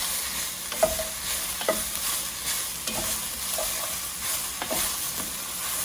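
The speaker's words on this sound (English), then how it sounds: "Now I'm just going to toss the garlic in and let that go for 30 seconds. Try to really get it mixed in there." Garlic sizzling in a pot with broccoli and onions while a spoon stirs it, giving a steady close frying hiss broken by scraping stirs and soft knocks at irregular intervals.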